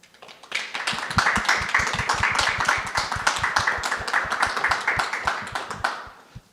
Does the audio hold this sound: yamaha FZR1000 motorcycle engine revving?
no